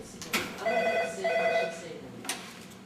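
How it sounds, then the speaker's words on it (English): Telephone ringing at Ordsall Hall, two bursts of a bright electronic ring close by, with brief clicks around them and a faint voice-like murmur underneath. "everyone is on the edge of their seats as they wait for that vital phone call"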